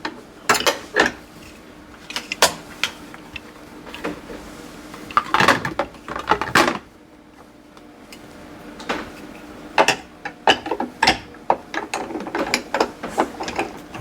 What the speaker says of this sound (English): So pulling down will open the chamber, and that will let the ice cream or slushy mix come down